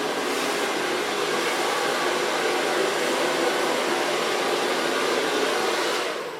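A hair dryer blows steadily and loudly throughout a salon blow-dry, a continuous even roar with no speech, tapering slightly at the very end.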